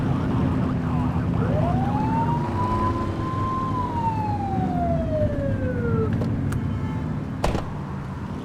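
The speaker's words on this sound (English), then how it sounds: "Get behind them and blip the siren to make them pull over." A single police siren blip in The Precinct game rises then slowly glides down over a few seconds, loud over a steady low engine and traffic rumble, followed by brief sharp clicks.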